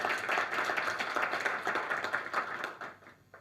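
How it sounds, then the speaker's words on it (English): Audience applause for previous speakers at a talk, a brisk patter of many hands clapping at moderate volume that continues steadily before tapering off at the end. "How about a round of applause for those guys?"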